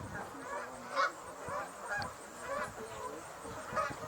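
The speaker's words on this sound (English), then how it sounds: "there's a white-fronted goose here" Greater white-fronted goose honking in a series of repeated calls at moderate distance, roughly one call every half second to second, over a soft outdoor background.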